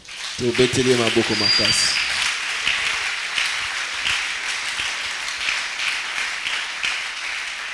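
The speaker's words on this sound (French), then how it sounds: "On l'acclame très fort." A church congregation bursts into loud, dense applause after a preacher's call, a steady rain-like clapping that holds for several seconds, with a voice speaking at the start.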